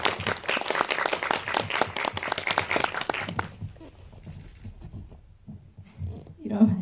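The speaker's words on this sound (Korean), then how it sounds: "박수 한번 부탁드립니다." Audience applause at an indie film talk event for the movie Archaeology of Love, dense clapping that fills the first few seconds and then drops away, followed by a quieter room and a voice near the end.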